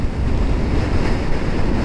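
Strong wind roars steadily on a mountain ridge road on Karpathos, between slopes that fall to the sea on both sides. It is a loud, continuous rushing blast with no voices.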